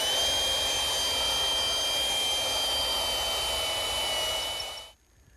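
A power drill fitted with a 1/2-inch bit bores all the way through wood while building a greenhouse, giving a steady, loud high-pitched whine that holds evenly for about five seconds and then cuts off abruptly.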